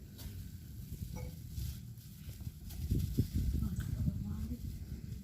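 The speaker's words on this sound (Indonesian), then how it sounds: "Sambil diaduk." Salt and citric acid are stirred into warm water, about 40 °C, for homemade antiseptic liquid soap, giving a steady close scraping and swirling that grows busier and louder in the second half.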